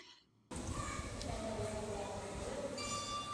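Railway platform at Bangalore station with a train rumbling and rolling past, a sudden loud onset followed by a continuous heavy clatter and hum, with a brief higher squeal near the end.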